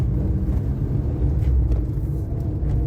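A car on a short test drive gives a steady, loud low rumble of engine and road noise from inside the cabin, continuous and without talk.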